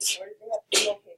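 A sharp, breathy sneeze bursts out close by amid a person speaking.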